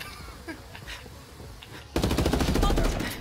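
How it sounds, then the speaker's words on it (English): Heavy gunfire in a video game erupts suddenly partway through, a loud dense burst of rapid automatic shots after a quieter stretch with faint background sounds. "I'm taking heavy fire."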